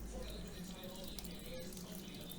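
Water trickles and splashes steadily from a drilled hole in a Ford Transit van chassis. The flow is faint and continuous, with no voices over it.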